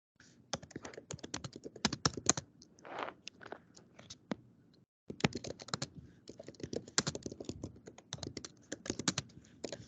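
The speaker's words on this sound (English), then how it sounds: "I hear somebody typing away." Fast, irregular clicking from typing on a computer keyboard comes in dense bursts during an online class, with a brief pause midway before the keystrokes resume.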